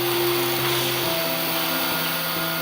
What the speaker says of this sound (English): This is a highly flexible Yaskawa robotic tank welding cell.